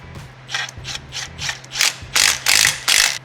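A hand ratchet clicks in a string of quick, rhythmic bursts while tightening the inner bolts on the upper oil pan of a VQ35DE engine, close and clear, getting louder toward the end.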